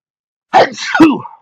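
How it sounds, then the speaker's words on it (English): A single close, abrupt sneeze, with a quick sharp intake and a forceful burst that fades out. "Oh, I'm going to sneeze again."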